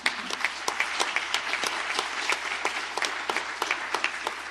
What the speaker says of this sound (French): Quel message, on peut l'applaudir.